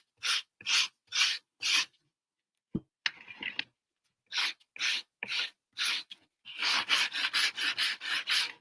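A carved wooden Christmas moose is hand sanded with light rasping strokes, a few separate scrapes, a pause, then quicker repeated rubs close to the listener with no talking.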